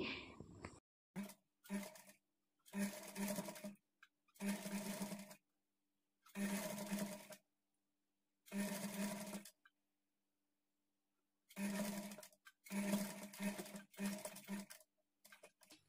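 A sewing machine stitches thread piping along the neckline of a child's lehenga blouse, running in about ten short, loud bursts with silent pauses between them as the fabric is guided along.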